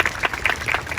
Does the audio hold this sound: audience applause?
yes